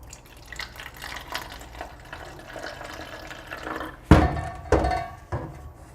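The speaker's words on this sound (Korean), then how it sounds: "신중하게 따라줍니다." Household bleach pours from its bottle into a 330 ml plastic water bottle, a soft liquid trickle and glugging followed by a few louder thunks and splashes near the end, close and fairly quiet.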